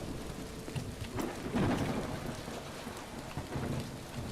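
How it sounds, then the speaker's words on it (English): Steady rain with rolling thunder in a graveyard scene of the video game Call of the Elder Gods, a continuous wash of falling water with a low rumble swelling midway, alone and fairly loud. "Maybe it's the rain sound effect, but it sounds like digging"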